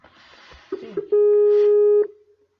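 Outgoing telephone call ringing: a single loud, steady electronic ring tone holds for about a second, preceded by faint rustling and followed by quiet fading noise.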